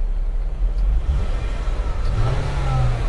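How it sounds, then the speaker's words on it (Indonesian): A Jeep Wrangler Rubicon's 2500 cc petrol engine revs loudly and up close, rising and holding a deep, rough mid-range roar for a few seconds with no voices over it. "Nah, itu raungan dari mesin"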